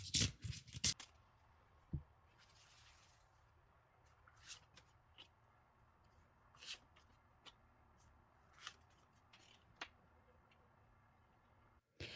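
Tarot cards being shuffled and drawn: a burst of riffling at the start, then scattered soft card flicks and taps spread through an otherwise quiet stretch.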